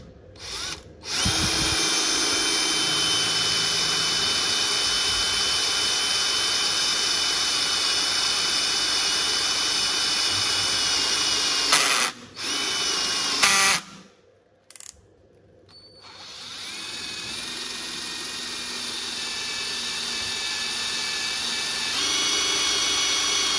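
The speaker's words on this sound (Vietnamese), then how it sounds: "em khoan cái con ốc ngoài này trước nha" A power drill fitted with a cobalt HSS bit bores into a steel bolt, whining loudly and steadily up close for long stretches, with brief stops and restarts partway through and no talk over it.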